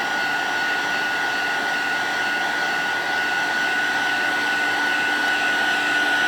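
Heat tool or dryer blowing over ink on vellum: a loud, steady, close whirring roar with a faint tonal whine, continuous throughout with no talk.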